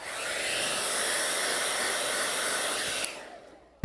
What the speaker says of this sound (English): what I'm going to do is take my hairdryer, again, really quick